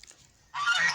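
Geese in a garden waiting to be fed honk loudly together in a sudden close burst after a quiet moment.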